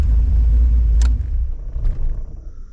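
A Pontiac Firebird engine with an oil pressure problem idles loud and rumbling close by, then is switched off, the low drone dropping away into a quieter fading rumble.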